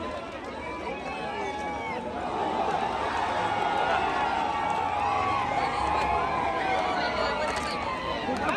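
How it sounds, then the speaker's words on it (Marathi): A crowd cheers and shouts in celebration at an open-ground bullock cart race on 26 January, a dense roar of many voices with whistles and hubbub rising and holding loud throughout. "जल्लोष तुम्ही बघू शकता इथे"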